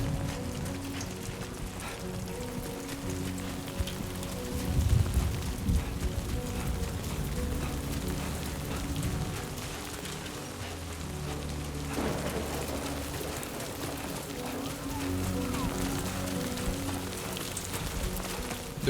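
Steady rain falls in Death Stranding 2, a continuous wash of drops over low ambient music, with a few heavier thuds and rumbles partway through.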